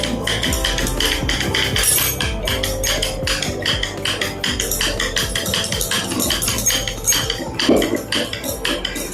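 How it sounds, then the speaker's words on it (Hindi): A wooden hand churner (rai) twirled through cream (malai) to separate butter for ghee, producing a loud, fast, steady clacking and rattling rhythm that continues throughout with no talking. "मैं इसको इस रई से, लकड़ी वाली से निकालती हूँ"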